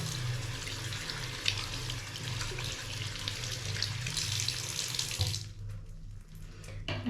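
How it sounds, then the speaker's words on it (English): Tap water runs steadily into a sink as hands are washed, a close, even splashing hiss that thins out and changes near the end, with no voices. "start putting your hands underneath the water"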